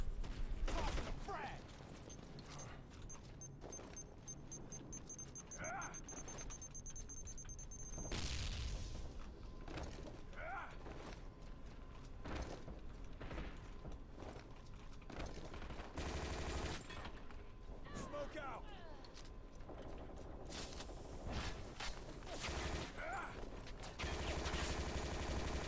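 Pistol fire in an online shooter video game, scattered sharp shots and booms amid game mechanisms and creaks, fairly faint throughout.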